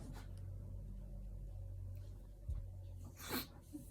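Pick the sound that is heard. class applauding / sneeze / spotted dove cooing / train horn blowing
sneeze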